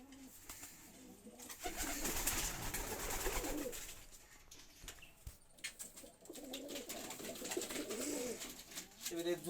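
Rajshahi Giribaj pigeons, a crested Bengali flying breed kept in a loft, coo in soft repeated bursts that rise and fall through the stretch, with rustling and a human voice murmuring in the background.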